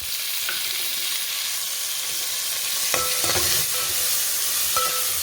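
Curry leaves, coriander and tomato fry in a pan, giving a steady, continuous sizzle with a few sharper bursts of spatter and stirring scrapes, heard close with no talk.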